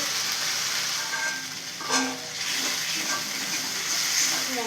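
Spices for paneer curry, with yogurt, turmeric and chili powder, frying steadily in a pan, making a constant broad hiss and crackle with a brief stir in the middle.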